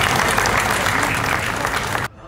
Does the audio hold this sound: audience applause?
yes